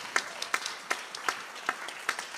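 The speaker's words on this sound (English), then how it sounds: "Huge round of applause." Scattered claps from a small audience at a live band concert in a temple arts venue, sparse individual hand claps at irregular intervals, fairly faint and thinning out rather than a full ovation.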